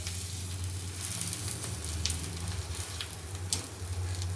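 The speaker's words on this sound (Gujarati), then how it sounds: "આ રીતે આપણે પાવ શેકી લઈશું।" Pav bread roasting in a hot pan with garam masala and coriander, a steady close sizzle with occasional crackles and stirring scrapes.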